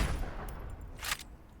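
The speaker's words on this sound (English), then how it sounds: "This is the focus fire for the heavy cannon, where it's just kind of this shotgun blast." A single heavy bowgun focus-fire shotgun blast in Monster Hunter Wilds, one sharp broadband burst standing out over a low game background.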